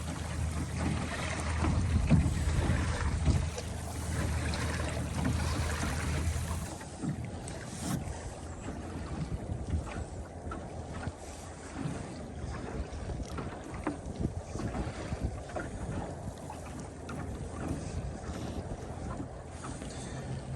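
A small boat moves steadily across water, with wind rushing over the microphone and a low engine-like rumble, louder at first and then easing.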